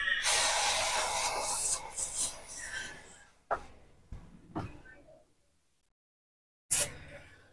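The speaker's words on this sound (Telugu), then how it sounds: "చాలా వరకు రస్ట్ వచ్చింది, అందుకే చాలా స్ప్రే చేస్తున్నా." Chain lube spraying onto the rusty chain of a KTM Duke 250 motorcycle: a close, loud, continuous hiss for about three seconds, then several short, sharp spray bursts separated by silence.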